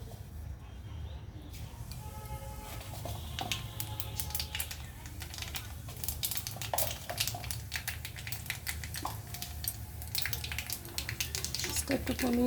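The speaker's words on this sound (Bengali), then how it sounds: "তো আমার তেলটা গরম হয়ে গেছে, আমি এর মধ্যে কালো জিরা ফোড়ন দিয়ে দেবো।" Nigella seeds are tempered in hot oil for mann kochu bata, crackling and spitting in dense, irregular pops over a steady frying hiss.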